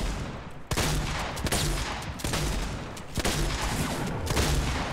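Gunfire rattles in a Fortnite duos match in rapid, dense bursts of loud, close shots with sharp cracks that repeat every half second or so over five seconds, and no one talks.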